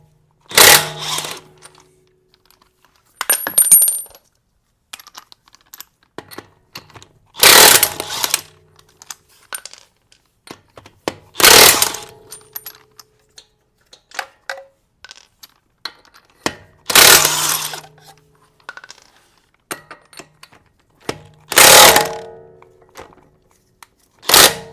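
Impact wrench on the front wheel lug nuts of a Lexus LX570 / Toyota Land Cruiser raised on a floor jack, sounding in six loud, separate bursts a few seconds apart with quiet clinks and handling noises between them.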